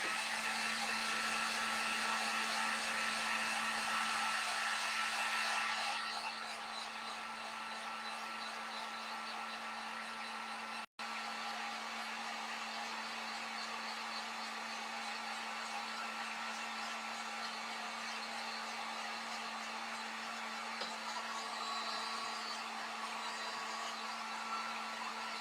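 A hair dryer blows continuously on a winter home decoration's hat and nose, a loud steady whooshing hum that shifts slightly in tone partway through and cuts out for an instant.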